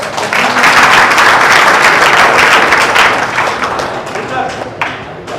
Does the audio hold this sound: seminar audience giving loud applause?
yes